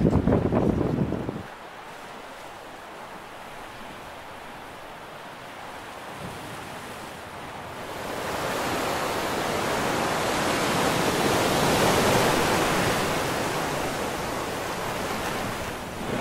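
Ocean surf and gusting wind on Coronado Beach make a broad, steady wash of noise, swelling louder midway as waves break, with wind buffeting the microphone.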